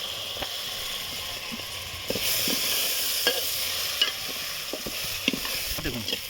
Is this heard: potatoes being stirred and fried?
yes